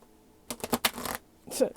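Tarot cards shuffled by hand in a short burst of crisp riffling and slapping, a quick cluster of close taps followed by a brief pause and one more flurry.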